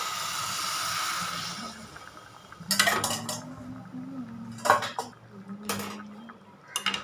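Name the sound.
stirring white mixture in a pan for moong dal ukkarai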